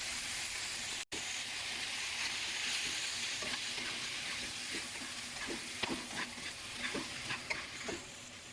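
Surf clams stir-frying in a hot pan with asparagus, a steady close sizzle and hiss with scattered scraping and clicking from the tossing, no voices.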